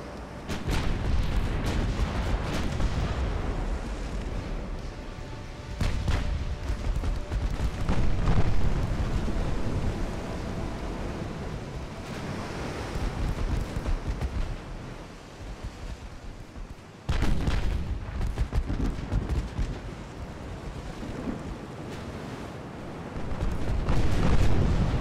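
Naval artillery fire from 4-inch guns in the naval warship game Ultimate Admiral: Dreadnoughts, heavy booming salvos and rumbling blasts recurring over a steady background roar, with no voices.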